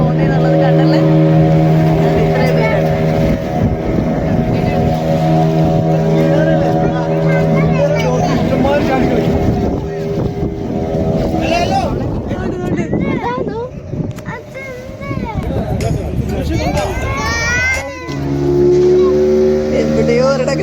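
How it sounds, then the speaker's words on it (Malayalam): Motorboat ride over sea waves off a Goa beach toward a dolphin-watching point, the engine droning loud and steady throughout with water wash, while people and children talk and call out over it. "കടലിലെ ഓളങ്ങളിലൂടെയുള്ള ഒരു ബോട്ട് യാത്ര വളരെ വ്യത്യസ്തമായിരുന്നു."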